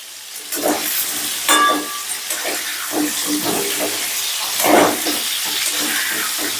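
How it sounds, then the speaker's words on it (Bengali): Pieces of pointed gourd (potol) frying in hot oil for a vegetarian potol korma, a steady sizzle broken by repeated stirring scrapes and splashes close by. "এবারে ওই তেলের মধ্যে পটলগুলোকে ভেজে নিচ্ছি।"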